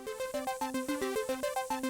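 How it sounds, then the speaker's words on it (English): Gritty synthesizer lead playing an 8-step arpeggiated sequence, mildly panned, set against a smooth round bass line; evenly pulsed notes hop up and down in a steady rhythm, loud and close, with no voices. "So I choose to play with a contrast to the bass line, which is very smooth and very round, and add some grit to the leads"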